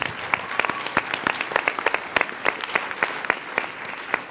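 Audience applause for a dance couple at a gala concert of a televised dance competition, a dense run of sharp claps sustained through the whole stretch at steady loudness.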